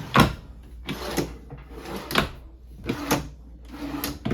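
Storage drawers in the kitchen of a 2022 Pioneer RB215 camper are opened and shut several times, each a short close thump or slide in an uneven rhythm.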